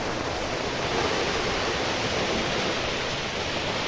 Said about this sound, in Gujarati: ધોમે ધોમ વરસાદ ચાલુ થઈ ગયો